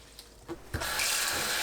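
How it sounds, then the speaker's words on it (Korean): Salted kelp is rinsed in water: a few soft splashes, then a steady rush of running water filling a basin, close and alone. "쌈다시마는 물에 두세 번 헹궈 소금을 씻어냅니다."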